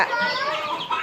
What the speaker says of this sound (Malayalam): അത് കോഴിക്കുഞ്ഞുങ്ങള്.